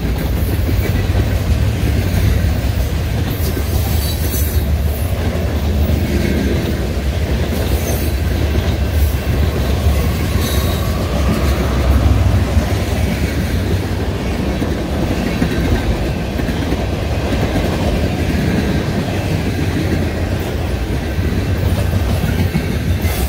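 Freight train hauled by Grand Elk GP-38 locomotives rolling steadily past at close range, a loud continuous rumble and rail clatter holding for the whole stretch with no talk over it.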